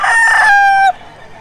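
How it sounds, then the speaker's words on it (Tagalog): A gamecock crows loudly and close, one strong drawn-out cock-a-doodle-doo lasting nearly a second and then cutting off sharply. "Isang manok ni Boss Jerome nga pala."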